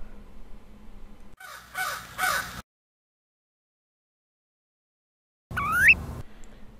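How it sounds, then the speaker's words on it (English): An American crow at Bolsa Chica gives a few harsh caws at moderate distance amid faint outdoor background. After a long silent gap, a final loud, close call rises sharply. "The American crow is one of the most frequently occurring birds at Bolsa Chica"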